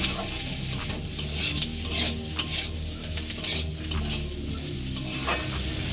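Egg and prawn chowmein with vegetables being stir-fried and tossed in a pan, a lively sizzle broken by repeated rhythmic scraping and stirring strokes, close and without speech.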